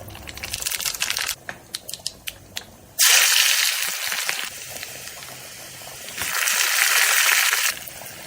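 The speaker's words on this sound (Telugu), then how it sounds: "ఆనియన్స్ మగ్గిన తర్వాత టమాటా ముక్కలు అయితే వేసుకుంటున్నాను ఇక్కడ" Tomato pieces dropped into softened onions frying in a pan give two loud bursts of sizzling and crackling, each lasting over a second, after a few quieter clicks and taps.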